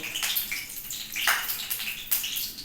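Water drains off soaked soybeans as they are squeezed and tipped out, giving close, splashy gushes that rise and fall in several uneven pours.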